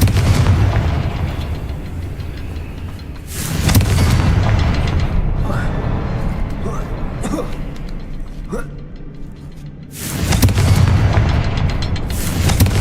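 Confringo fire spell explosions in a Harry Potter video game: two loud, booming blasts a few seconds apart with a rumbling, crackling game soundscape between them.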